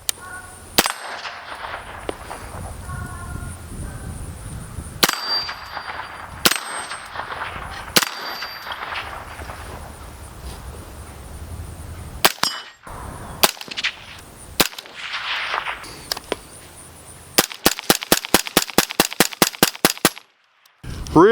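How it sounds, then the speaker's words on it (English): Rounds fired from a gun fitted with a DNT Hydra optic and a backup 45-degree red dot sight: sharp, loud single shots spaced across the first half, then a fast, evenly paced string of about a dozen shots near the end. "Let's put a few rounds down range using the Hydra and the backup red dot sight."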